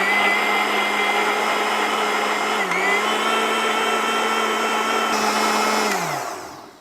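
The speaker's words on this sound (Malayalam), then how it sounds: "ഇത് നമുക്കിനി മൂടി വെച്ചിട്ട് മിക്സിയിൽ വെച്ചിട്ട് നന്നായിട്ടൊന്ന് അടിച്ചെടുക്കാം" An electric mixer blends a chocolate milkshake in a steady, loud whirring drone that runs for several seconds, dips briefly once, then winds down as the motor is switched off.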